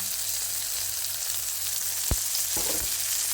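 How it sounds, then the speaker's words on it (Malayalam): Steady frying sizzle in pure coconut oil, with a continuous close hiss and a couple of sharp clinks of a utensil against the pan, no talking. "ഇപ്പം കുറച്ച് ഒഴിച്ചു കൊടുക്കാം വെളിച്ചെണ്ണ കുറച്ച് ഒഴിച്ചു കൊടുക്കാം"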